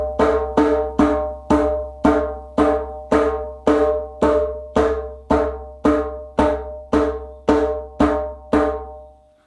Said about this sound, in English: My hand is on the side of the drum. Hand is slightly curved, and I'm just hitting it normally.